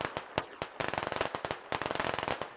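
Distant gunfire in the military shooter Squad, rapid cracking bursts of automatic fire mixed with single shots, sharp but faint and echoing from far off, with no voices over it.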